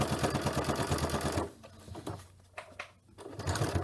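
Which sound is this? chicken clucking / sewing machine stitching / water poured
sewing machine stitching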